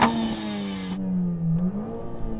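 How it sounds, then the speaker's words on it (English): A Mercedes-AMG A45 engine revs hard and then falls back, a loud, close, rasping note that rises, holds briefly, dips and picks up again before fading out. "Go on, rev up the A45."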